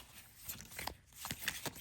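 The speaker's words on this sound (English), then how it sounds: "It's another one that's a little bit hard to shuffle" A tarot card deck being shuffled by hand, giving a run of soft papery riffles and flicks in an uneven rhythm, close and fairly quiet with no speech.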